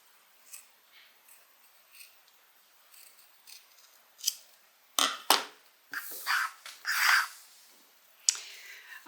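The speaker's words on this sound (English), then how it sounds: "I'm going to take a nice sharp pair of scissors and I'm just going to even up these edges." A sharp pair of scissors trims the edges of a handmade leather bag in a run of crisp snips, faint at first and then louder and closer, with no voices.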